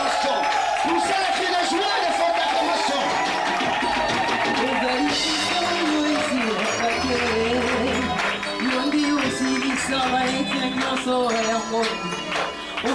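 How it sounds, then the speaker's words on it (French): A church congregation erupting in loud shouts of joy and acclamation, a dense roar of many voices with whoops and scattered clapping, sustained and close throughout. "Poussez les cris de joie et de fortes acclamations."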